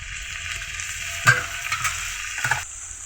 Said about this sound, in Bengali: এর মধ্যে এখন দেওয়া হবে কেটে রাখা করলা কেটে রাখা ছোট আলু